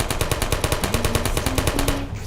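Automatic fire from a Portal video game turret: a rapid, steady rattle of evenly spaced shots lasting about two seconds, loud and close, with a low electronic hum underneath that cuts off abruptly at the end.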